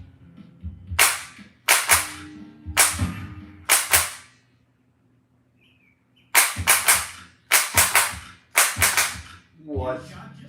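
Light gun shots in a video game ring out in two quick runs of four or five sharp, crackling bangs with a short pause between them, loud and close, and a voice speaks briefly near the end.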